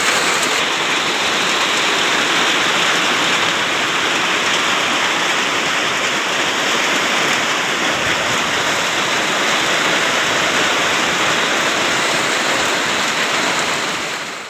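Heavy rain pours steadily during a storm in Laos, a dense, loud, continuous roar of water falling on surfaces nearby, unbroken for the whole stretch with no voices.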